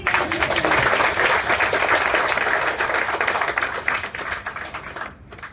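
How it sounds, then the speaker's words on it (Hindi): An audience at a business meeting claps in a dense, loud roar of hands for about five seconds before it fades out near the end. "तालियां बज दीजिए"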